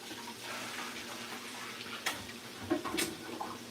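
Water for Liberian split pea soup is poured in the kitchen, a steady splashing trickle with a few brief clinks and bumps toward the end, close by and without talk.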